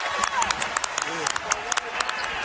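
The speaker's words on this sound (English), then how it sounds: "Mom and Dad applaud." Scattered applause and clapping from a small crowd at a Texas vs LSU college basketball game after a made free throw, with an announcer talking over it.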